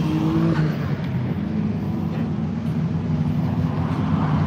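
Drift car at Tsukuba circuit in Ibaraki, Japan, during a summer festival track event, moving slowly with a steady low engine drone and mild tire noise, continuous and fairly loud, no talking.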